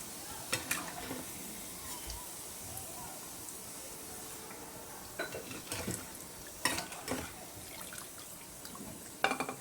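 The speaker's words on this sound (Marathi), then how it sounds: "असे सर्व सोयाबीन मी आता तळून घेणार आहे" Soybean balls for soybean 65 deep-frying in hot oil, a steady low sizzle with intermittent ladle clinks and scrapes against the pan, a few sharper knocks near the end.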